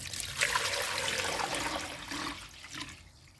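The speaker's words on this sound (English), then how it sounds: "in this bowl I'll pour in some water" Water splashes and trickles steadily into a container nearby, a continuous liquid rush that tapers off toward the end.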